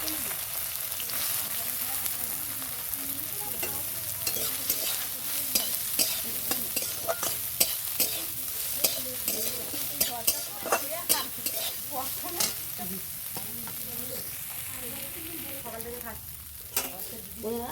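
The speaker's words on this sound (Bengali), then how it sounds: "প্রথমে সয়াবিনটা দেবো, একটু ভেজে নেব।" Soybean chunks fry in hot oil in a wok, a steady close sizzle with frequent scraping stirs and clinks of the spatula throughout, nearly without pause.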